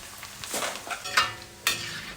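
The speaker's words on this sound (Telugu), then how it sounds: "కొన్ని కొన్ని అటుకులు వేసుకుంటూ మనకి ఎన్ని అటుకులు కావాలో అన్ని అటుకులు మొత్తం వేయించుకోవాలి" Flattened rice (poha) being fried in hot oil for a cornflakes-style snack, with a crisp sizzle and quick stirring scrapes and clinks of a utensil in the pan, close up and without talk.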